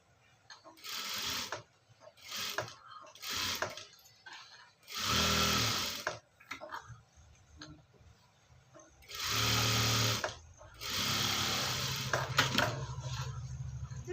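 A sewing machine stitches along a fabric edge in several separate close bursts of motor whir, with short pauses between runs.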